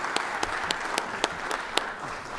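Audience in a state legislative chamber gallery applauding a county sheriff's corporal, steady clapping with a few sharper claps standing out, moderately near and alone without talk.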